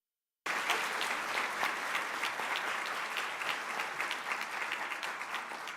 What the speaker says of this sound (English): Can we please give them another massive round of applause?